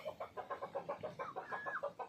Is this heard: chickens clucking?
yes